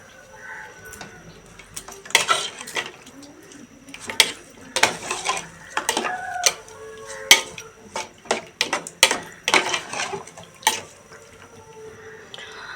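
A spoon stirs a cooking pot with tamarind and salt, making irregular clinks and scrapes against metal in quick close bursts, with quieter gaps between.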